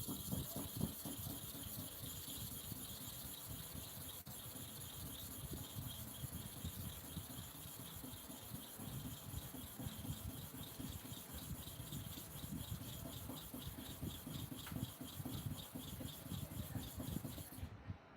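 A KI hair clipper blade is rubbed back and forth on a sharpening stone in quick repeated strokes, a soft, gritty rasping that carries on steadily and faintly from close by.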